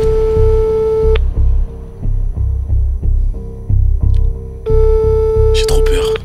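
Phone ringing tone while a call is being placed, a steady tone that shifts into a run of repeated pulsing ring bursts with short gaps, then a steady tone returns, with faint voices near the end.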